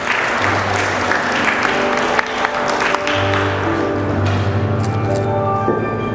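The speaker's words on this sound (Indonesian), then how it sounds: "mari kita berikan tepuk tangan." A wedding blessing congregation in church giving steady applause, many hands clapping together for several seconds while a low sustained tone, likely an organ or keyboard, plays beneath.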